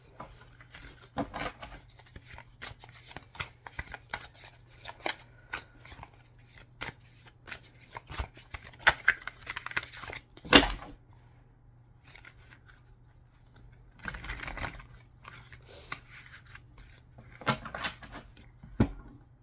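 Tarot cards are shuffled and drawn by hand at close range, producing repeated crisp riffles and flicks in irregular bursts, with one sharp slap midway and quiet gaps between, and no talking.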